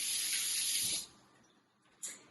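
A kitchen tap runs in a loud, steady hiss for about a second as hands are washed. It then shuts off, leaving quieter trickling, before a brief second burst of water.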